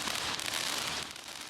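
Fireworks crackle and pop in a dense, continuous burst at a Taiwanese temple festival, loud and close, the noise easing slightly near the end.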